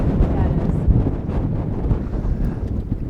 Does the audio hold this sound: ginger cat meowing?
no